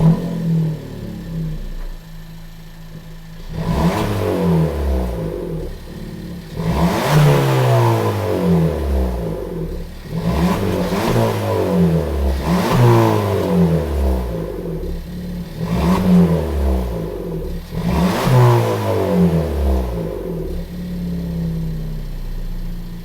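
Suzuki Swift Sport engine fitted with a new aftermarket exhaust, revving repeatedly from idle in five or six rising and falling bursts, close and loud, with no talking.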